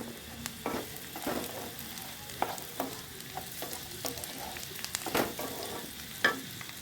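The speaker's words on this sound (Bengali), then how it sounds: "আমার পেঁয়াজটা বাদামি রঙের হয়ে গেছে ভাজা" Browned onion and carrot frying together in a pan for a vegetable stir-fry, soft continuous sizzling broken by repeated sharp scrapes and clacks of a spatula stirring.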